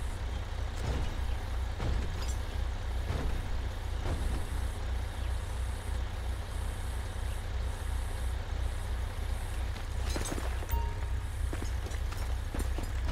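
A medium duty wrecker truck's engine drones steadily while towing an F-250 out of swamp water in GTA 5, a loud continuous low rumble with periodic mechanical clunks and hisses.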